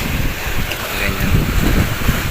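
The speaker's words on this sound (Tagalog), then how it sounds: "Lakas ng alon. Malakas ang amihan guys." Strong sea waves and a gusting northeast monsoon wind at a shoreline spot near Pililla make a steady, loud, broadband roar of surf and wind buffeting the microphone throughout.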